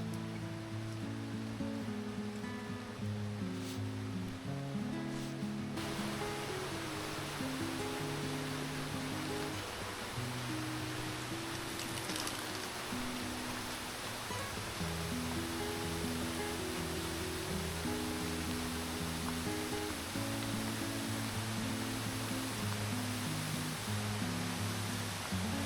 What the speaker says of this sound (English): As we cross the first bamboo bridge, we find the first waterfall of the day.